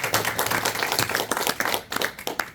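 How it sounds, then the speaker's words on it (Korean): A lecture audience in Yeosu, listening to a talk on Admiral Yi Sun-sin's leadership, breaks into a short burst of brisk, scattered clapping that fills the room for a couple of seconds. "박수 한번 치세요. 박수."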